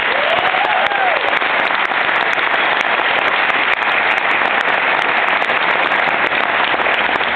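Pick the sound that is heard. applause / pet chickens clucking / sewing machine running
applause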